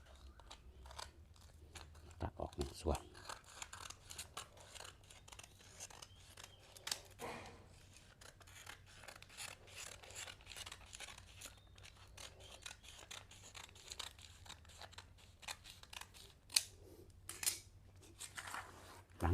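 Scissors snip through paper being cut into sheets for wrapping dates, giving soft, quiet crisp cuts and crunchy rustles spaced irregularly, with a low voice faintly present in the background.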